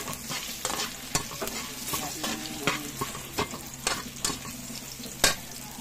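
Tofu fries with garlic in a hot pan, a steady crackling sizzle broken by repeated sharp scraping stirs at a loose, uneven rhythm, close and fairly quiet, with no talking.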